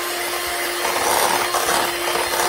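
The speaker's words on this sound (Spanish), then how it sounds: "Es la batidora que está batiendo, no yo." An electric mixer whirs steadily through chocolate cake batter after flour has been added, a constant close motor hum with a swishing wash of beating that swells slightly midway, with no talking.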